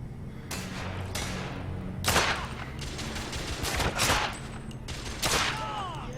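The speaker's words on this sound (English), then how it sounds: "Use R2 to fire your weapon." Weapon fire in The Order: 1886, heard as a string of sharp, loud gunshots at irregular intervals over a steady background of combat din, with several heavy thumping blasts standing out.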